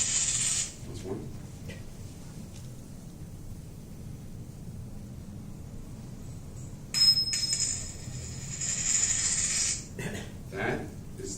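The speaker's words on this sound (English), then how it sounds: "That is the sound of a ring hitting the floor." A ring drops onto a hard floor. Bright metallic clinks ring out at the start and again in the middle, each bouncing and trailing off, with quiet room noise between them.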